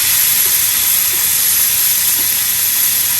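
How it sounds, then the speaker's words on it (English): Steak for a Philly cheesesteak sears in butter oil on a hot flat griddle, giving a loud, constant, broadband hiss that stays even throughout. "we're going to put some more butter oil down. And we're going to get a nice little sear on here"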